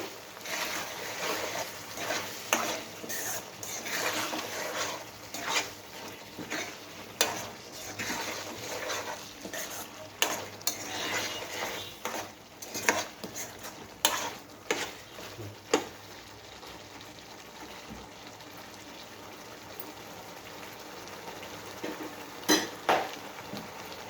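Spoon stirring chicken curry in a pan after a spoonful of garam masala goes in, oil starting to separate; repeated scraping and clinking of metal on the pan in uneven bursts, close and moderately loud, with no talking.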